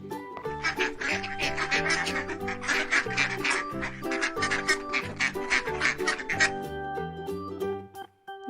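A duck quacks repeatedly in a steady run of short calls over a bed of backing music, the quacks close and clear throughout.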